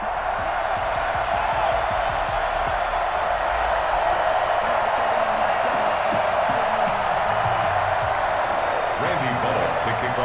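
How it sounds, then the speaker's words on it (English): Sold-out Cincinnati stadium crowd in the Madden 21 football video game, a dense steady roar of cheering throughout, with a commentator talking over it. "The enthusiasm of this Cincinnati crowd in full effect a moment ago"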